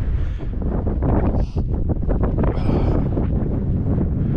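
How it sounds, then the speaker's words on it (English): Gusty wind of about 20 mph gusts on an open hilltop at Calf Top in the Cumbrian Dales, roaring continuously against the microphone with heavy buffeting and no voices. "The wind's got up to about, well, I'd say, possibly 20 mile an hour gusts."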